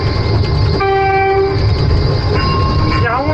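A ride tram at the Suzuka Circuit amusement park in Kaohsiung sounds a steady horn blast over a loud continuous rumble of rolling wheels, followed by a second, shorter horn and a quick rising tone.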